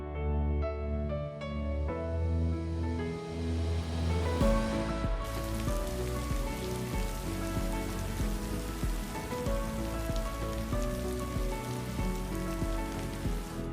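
Steady rain falls and patters on surfaces, a dense hiss that swells in after a few seconds and continues under tonal music.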